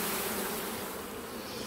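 Bees buzz steadily around a beehive, a dense, continuous hum of many insects close by with no pauses and no voices.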